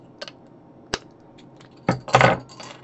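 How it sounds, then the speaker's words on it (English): A homebrew beer bottle, primed with sugar, is opened: a faint click, then a sharp, close burst of fizzing hiss lasting under a second that quickly fades. "Did you hear that fizz?"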